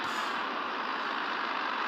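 A truck roars past on the road, a loud continuous broadband rush of engine and tyre noise that stays steady and close throughout, with no voices.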